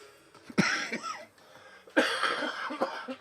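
Two harsh, close coughs come about a second and a half apart, each trailing into rough, throaty breathing.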